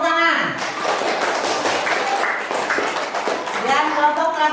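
A classroom group claps hands together in a busy, moderately loud burst, with a voice speaking at the beginning and more voices rising near the end over the clapping.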